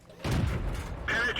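A tank gun shot penetrating armor in World of Tanks: a deep, sustained boom rolls out close and loud, and a brief voice comes in near the end.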